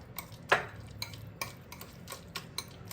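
Custard apple pulp is mashed by hand in a bowl to separate the seeds, giving soft squelching presses with scattered light clicks and taps at an irregular pace, close and fairly quiet.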